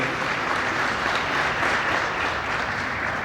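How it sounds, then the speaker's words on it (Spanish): Steady audience applause fills a hall at the Buenos Aires book fair, a dense, even wash of many clapping hands heard close and continuous without talk. "aplauso para ellos."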